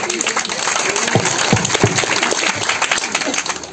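Steady audience applause at an Indonesian PKB party gathering in Maybrat, loud dense clapping filling the whole stretch with no pause.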